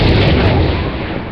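A gunshot in a multiplayer shooter video game: one loud, full-band blast with a long, dense rumbling tail that fades slowly over a second and a half, with no talking.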